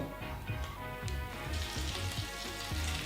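Thick soaked brioche slices, prepared like French toast, frying in a hot pan, giving a steady close sizzle with soft crackles and a few light scraping touches, and no voices.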